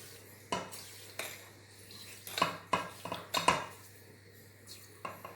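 A spoon stirs water and sugar in a cooking pot for homemade honey syrup, with a series of light scraping and clinking strokes against the pot, fairly quiet and irregular with short pauses.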